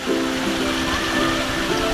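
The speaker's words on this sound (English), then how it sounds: "The waterfall." Water pours steadily from a waterfall at a lazy river at a Disney resort in Hawaii, a close, constant rushing splash with no break.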